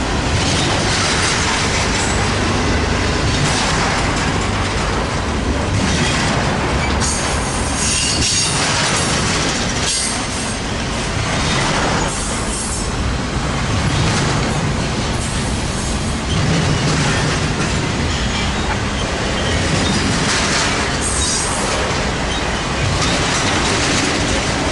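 A subway train passes at a station at Commerce, loud and close, with sustained high wheel squeal over rumbling and clattering wheels for the whole stretch, no talk.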